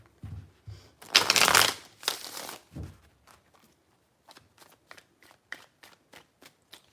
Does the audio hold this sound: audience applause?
no